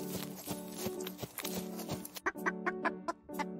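A rooster in a cartoon fairy tale, clucking in a series of short bursts over a soft musical background, the calls growing sharper and more separated toward the end.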